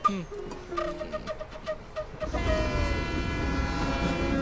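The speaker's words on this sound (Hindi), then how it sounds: "ट्रेन 1 घंटे में स्टेशन पर पहुंचने वाली है" A train runs along the tracks, first with a series of rhythmic metallic clicks and clanks over the rails, then a sudden loud, steady rumbling roar of the carriages that holds to the end.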